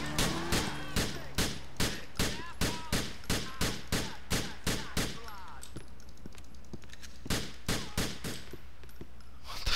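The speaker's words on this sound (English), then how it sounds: "Getting shot at by this guy?" Gunfire from a drive-by shooting in GTA IV with the LCPDFR mod, loud rapid bursts of sharp shots in a fast repeating rhythm, tapering into scattered cracks with a final burst at the end.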